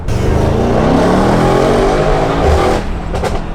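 A Mercedes-AMG GT63s with a straight-pipe exhaust roars loudly and continuously as the engine is revved hard, then the tone eases and a few sharp crackling pops come through near the end.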